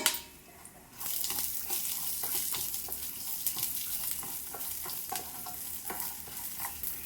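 Green chilies, ginger and garlic fry in a pan, a quiet start giving way after a second to a steady, close sizzle broken by frequent clicks and scrapes of stirring.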